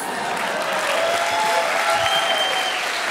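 Steady audience applause fills a hall as a woman from Jupiter mission work is welcomed onstage, a dense, even wash of clapping held at constant loudness throughout with no pauses.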